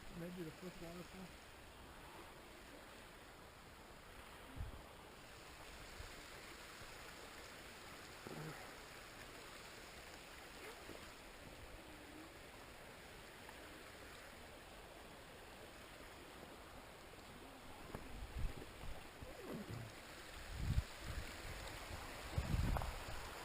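Water from a waterfall and stream on a hiking trail rushes in a steady broadband wash throughout, with a few scuffs and handling bumps near the end and occasional talk.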